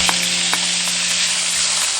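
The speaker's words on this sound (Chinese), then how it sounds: "锅中倒少许食用油，加五花肉点豉油水" Pork belly fries in cooking oil in a wok, giving a loud, dense sizzle with a few light taps of a utensil, heard close and alone.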